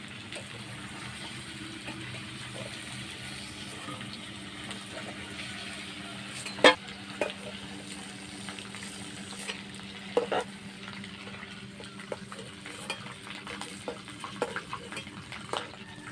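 Chicken pieces frying in a pan without salt or turmeric for a rustic chicken curry, a soft continuous sizzle under occasional sharp clinks and scrapes of a stirring spoon, fairly quiet and close.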